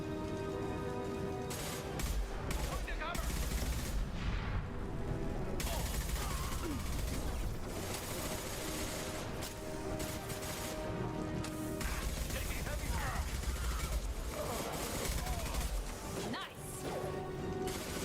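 Gunfire in Mass Effect 2, a long stretch of busy combat with repeated bursts of shots, crashes and impacts layered over game music, with voices talking at times.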